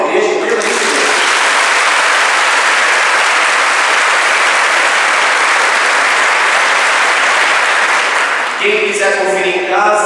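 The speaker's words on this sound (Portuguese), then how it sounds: "Aplauda a igreja inteiramente." A Catholic church congregation breaks into loud, sustained applause, filling the room for several seconds before a voice resumes talking as the clapping fades.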